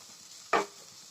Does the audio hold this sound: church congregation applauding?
no